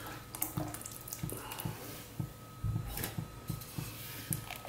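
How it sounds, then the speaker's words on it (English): Coconut milk is poured into a pot of tomato lentils, a faint liquid splashing and pattering with soft clunks of the pot. "At this point, I'm now going to add our coconut milk."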